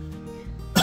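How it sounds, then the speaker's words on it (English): A single short cough, close by and fairly loud, at the end of a quiet stretch with faint background murmur. "Cough, cough."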